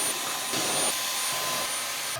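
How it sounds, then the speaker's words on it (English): A vacuum cleaner sucks up small styrofoam pieces during an apartment makeover, a steady broadband whoosh and rattle running throughout and cutting off abruptly at the end, close to the microphone, with no voices. "grabbing a vacuum cleaner because of all the little styrofoam pieces"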